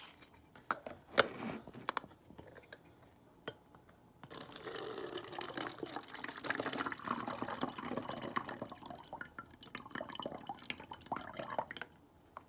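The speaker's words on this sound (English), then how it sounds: "So we're going to start by putting some water into the water bottle." Water pours into an empty plastic water bottle, a few faint drips and clinks first, then a steady trickling, gurgling stream for several seconds, close and quiet.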